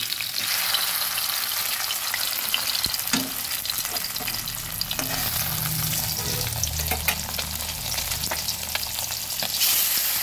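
Pabda fish fry in hot oil in a pan, a steady dense sizzle with crackling pops and a few stirring scrapes, close and even throughout with no talking.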